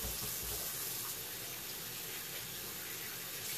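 Oxtail gets rinsed under a running kitchen tap, a steady close rush of water splashing into the sink with no break throughout.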